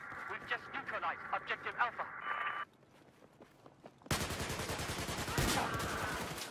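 Rapid bursts of automatic gunfire from the video game Battlefield 4, played in the Xbox 360 beta, including an enemy shooting through walls. Footsteps and lighter shots come first, then a loud, dense volley of close fire under excited talk.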